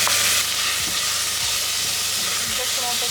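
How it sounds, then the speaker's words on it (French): Onions hit melting sugar in a hot pan during burger cooking and set off a steady, close sizzle that runs throughout, with a few faint clinks of stirring. "Et là on rajoute les oignons."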